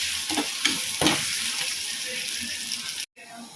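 Chopped onions sautéing in a hot pan for a Tamil-style potato and pea stir-fry, a continuous bright sizzle with a few stirring scrapes, then a brief cut near the end.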